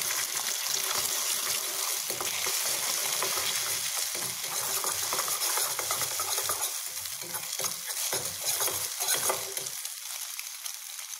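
Egg fries and is stirred in a hot pan for an idiyappam rice dish, making a loud, continuous sizzle with scraping stir strokes throughout before it drops away near the end.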